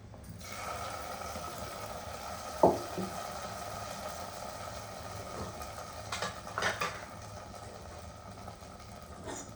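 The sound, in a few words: adding fried onions to jackfruit curry, stirring in pot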